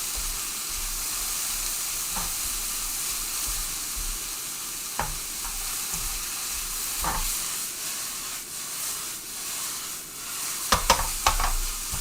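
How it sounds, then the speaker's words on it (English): Ginger and garlic sizzle steadily in a hot pan, a bright continuous frying hiss with occasional scrapes and clacks from a utensil stirring them, close and without talk. "stir in the ginger and the garlic until it's fragrant"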